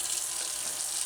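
Cold water poured into a protein shaker, a brief soft hissing splash at a modest, steady level with no voices.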